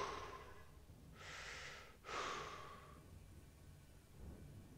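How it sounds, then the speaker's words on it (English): Heavy, deliberate breathing inside a spacesuit helmet during an Elite: Dangerous flight, two long hissing breaths in and out in close succession over a low steady background hum, loud and close. "You've got to regulate your breathing."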